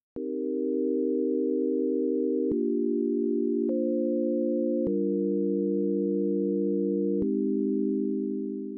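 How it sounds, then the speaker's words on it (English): Ableton Operator synth playing a simple chord progression: pure sustained tones changing chord about every second or two, clean and steady at moderate level, no voices. "At the moment, this is playing a regular synth sound using Ableton's operator."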